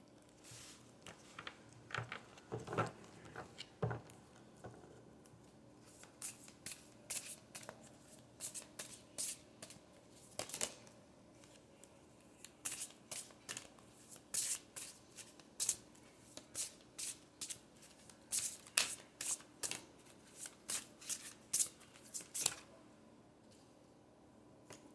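Tarot cards being shuffled by hand in repeated bursts of crisp riffling and soft flicks, close and fairly quiet, with short pauses between bursts and no talking.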